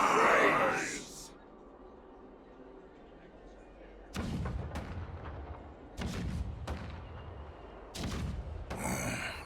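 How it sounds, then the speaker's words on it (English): Cannons rumble in the video game Honkai Star Rail. Several heavy booming bursts of low thuds come in waves, spaced a couple of seconds apart. A loud rushing swell opens the passage. "The rumble of the cannons."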